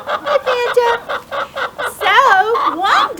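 Backyard laying hens cluck close by in a steady series of short, rhythmic calls that rise into longer, drawn-out squawks toward the end.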